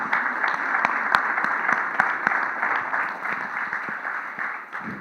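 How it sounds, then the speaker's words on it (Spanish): An audience at a university media gathering in Argentina applauds, a sustained, moderately loud patter of many hands clapping with a few sharper claps standing out, tapering slightly at the end. "Un aplauso, están acá los compañeros de La Plata."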